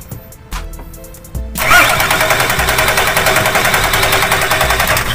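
A Nissan Patrol GQ with a TD42 diesel engine that has trouble starting cranks with a few short bursts, then catches and settles into a loud, steady clattering idle close to the microphone.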